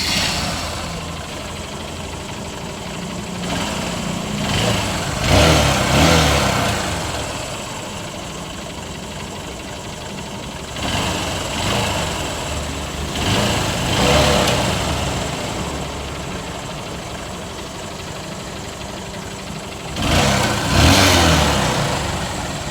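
A 2015 Honda Shine motorcycle with about 51,800 km on it runs steadily at idle nearby, its engine note swelling in several short revs spaced a few seconds apart before settling back, with no voices.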